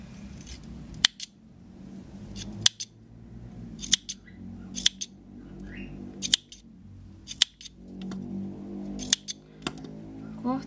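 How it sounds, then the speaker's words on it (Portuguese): Sharp scissors snip through crochet yarn ends in a string of crisp, close clicks spaced a second or two apart, over quiet handling rustle with no talking. "Agora eu corto aqui a pontinha onde tem."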